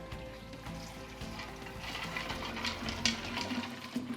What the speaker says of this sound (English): And then we just fill it full of water.